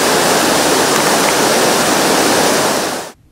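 Fourteen Falls on a polluted Nairobi river roars as a dense, loud, steady rush of falling water, unbroken for about three seconds before cutting off abruptly.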